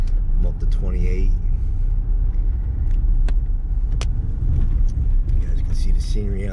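A Ram 1500 Big Horn 4WD pickup in auto mode driving at about 25 mph on a snowy road, giving a steady low cabin rumble of engine and tires with someone talking over it.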